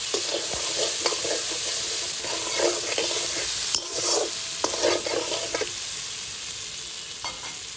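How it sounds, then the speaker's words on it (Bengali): Large prawns sizzle in a pan with a light coating of salt and turmeric, a steady hiss of frying broken by repeated stirring and scraping, with no voices. "এবং এর উপর হালকা করে নুন হলুদ দিয়ে দেবো লাল লাল করে হালকা ভেজে নেব"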